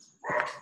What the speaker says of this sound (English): I don't know why my dog is barking so much.